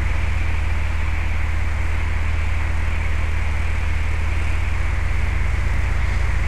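A small airplane engine drones steadily as power is reduced to 1,750 RPM, a loud continuous low hum with broad noise and no talk.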